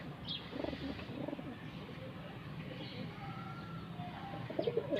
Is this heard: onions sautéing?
no